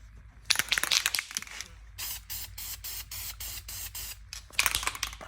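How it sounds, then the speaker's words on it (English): Aerosol can of black flame-proof high-temperature exhaust paint sprayed onto a car's dump tube, a series of loud hissing bursts separated by short pauses, with brief crinkling handling noise and no talk. "We're gonna spray our dump tube black so that way it matches our header."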